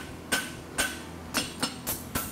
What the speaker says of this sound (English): Just come here with the hammer on the soft little lip and just push it in.